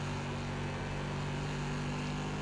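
The SK Modified race car engine in iRacing drones steadily under throttle, a loud continuous buzzing hum at constant pitch with no talk over it.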